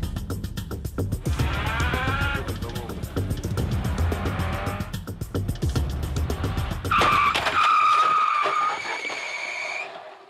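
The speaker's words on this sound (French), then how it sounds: "On retrouvera 2 mètres de traces de freinage avant l'impact. C'est ce qu'on va recréer maintenant devant vous." A car brakes hard in a staged crash recreation and skids, its engine roaring close by before the tires let out a loud, sustained squeal that fades out.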